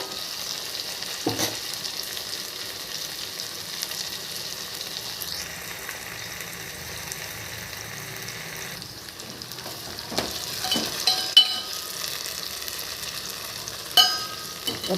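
Thorny nightshade eggplant fries in hot oil with a soft, steady sizzle, broken by a few clinks and scrapes of a utensil stirring the pan.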